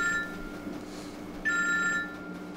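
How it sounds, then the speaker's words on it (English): A telephone rings in two bursts, a short trill at the start and a longer ring about a second and a half in, heard indoors with faint room sound between the rings. "what's he ringing you for?"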